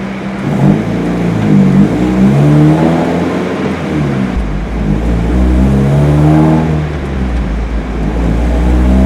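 A turbocharged Mazda Miata runs on a dyno as its engine holds and steps between steady revs, loud and close with a droning, wavering tone and no speech.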